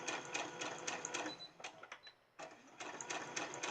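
A home sewing machine stitches a crib hanging organizer in rapid, steady mechanical bursts, stops briefly with a few small clicks, then starts stitching again, close and clear.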